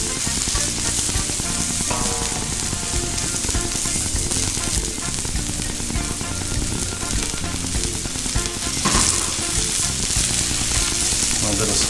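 Diced onions fry on a Blackstone griddle, a loud, continuous crackling sizzle that holds steady from start to finish.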